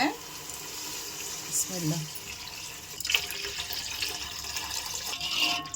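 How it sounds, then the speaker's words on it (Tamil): Water pours into a pot of sautéed rice mixture for ghee rice, a splashing, sizzling rush heard close in a home kitchen, moderately loud and continuous. "இப்போ தண்ணி ஊற்றிக்கலாம்."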